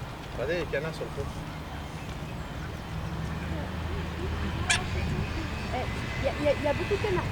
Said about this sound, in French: Regardez les canards sur le pont.